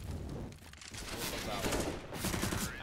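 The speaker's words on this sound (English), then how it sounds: "And Pulse takes him down with the UMP and says, hey, that's my AK, give that back" Counter-Strike: Global Offensive match at the Gfinity Winter Series Europe 2018, with dense rapid-fire bursts from a UMP submachine gun and other rifles, loud and sustained, overlapping a caster's excited commentary.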